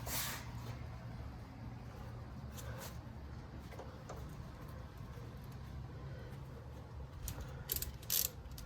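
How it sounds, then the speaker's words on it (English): A ratchet turns a 19 mm socket on the nut of a car's outer tie rod end, giving a steady run of quiet clicking strokes over low background hum, growing a little busier near the end. "this one here is 19 millimeter on the top, so we're just gonna ratchet this down"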